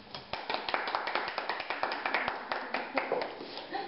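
A studio audience applauds as a guest is welcomed onto a Latvian talk show, with steady, close, rhythmic hand claps lasting throughout and no talk over them.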